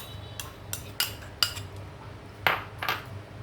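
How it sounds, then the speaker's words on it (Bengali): A spoon clinks and scrapes against a bowl in a few separate strokes while soaked semolina is mixed with flour and baking powder, the taps sharp and close with quiet pauses between them and no talk. "এটাকে আমি একটু ভালো করে মিশিয়ে নেব।"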